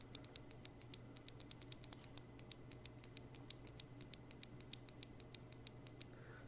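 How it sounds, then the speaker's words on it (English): Kailh Box Pale Blue mechanical keyboard switches clicking in a steady run of crisp, bright, sharp clicks, close and fairly loud, with a faint low hum underneath and no talking. "this is the sound of the pale blue"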